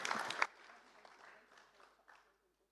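Audience clapping for a panel speaker at a sustainable asset management event: a brief, fairly loud burst of applause that quickly thins into a quiet, scattered tail before fading to silence.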